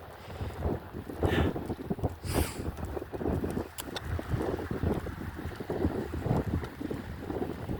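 Strong wind buffets the microphone outdoors in gusty rumbling waves with brief rushing bursts, loud and continuous throughout, with no voices.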